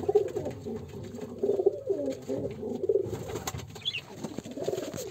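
Pigeons coo by their nest, where a male sits on two eggs: low, throaty, rolling coos repeat in an uneven rhythm close by, with no talk over them.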